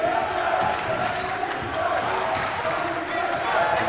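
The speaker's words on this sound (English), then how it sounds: "And the crowd getting into it." A basketball game crowd roars steadily at a college men's game, a continuous wash of cheering with shoe squeaks and bounces faintly mixed in.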